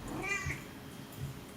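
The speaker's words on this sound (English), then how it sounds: "you may hear a squeak or meow" A cat gives a soft, fairly faint meow early on, with low rumbling background noise continuing after it.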